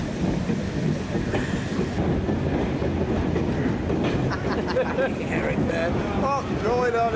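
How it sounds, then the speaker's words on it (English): A steam freight train runs northbound through Bury station on the East Lancashire Railway, a loud, steady rumble with rhythmic wheel clatter on the rails and some squealing toward the end. "Our freight is then northbound through the station"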